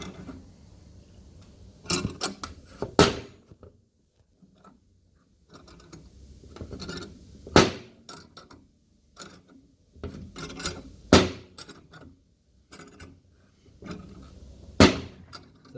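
Two-jaw bearing puller drawing a headstem bearing off a ZXR turbo motorcycle's steering stem, heard as sharp metallic clicks, creaks and clanks in irregular bursts, close and fairly loud with quieter handling noise between.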